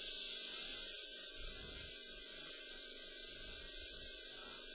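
An airbrush sprays paint over a French curve onto canvas from about two to three centimetres away, a continuous close, even hiss lasting throughout without pauses.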